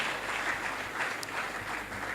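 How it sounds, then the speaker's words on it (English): Audience applause for forum panelists, a dense, even patter of many hands clapping at moderate volume, steady across the brief moment with no voices over it. "Please give a round of applause to our panelists."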